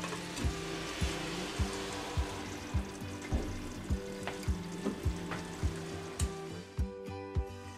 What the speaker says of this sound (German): Ich lasse es also einfach ein bisschen köcheln.